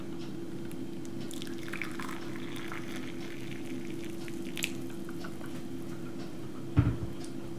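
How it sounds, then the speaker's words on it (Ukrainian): Boiling water pouring into a teacup holding a tea infuser: a gentle liquid trickle and drips over a steady low hum, ending with a brief clink. "Ну і далі наливаємо кип'яток."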